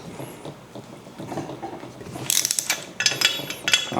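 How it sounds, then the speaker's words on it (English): A ratchet wrench tightening bolts that hold the weights on the shaft of a homemade lawn aerator, close metallic clicking in quick bursts that grows louder toward the end, no talking. "You're going to tighten these all up."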